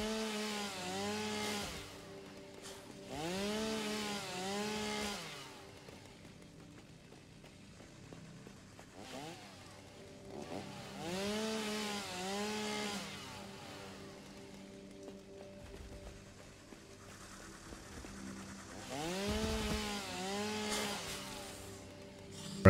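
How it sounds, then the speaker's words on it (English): Repeated bursts of a revving chainsaw in the video game Satisfactory, three main cuts with rising and falling pitch, fairly close, separated by quieter stretches of low engine idle. "when you chop them up with a chainsaw"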